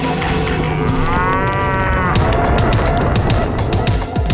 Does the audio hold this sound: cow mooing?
yes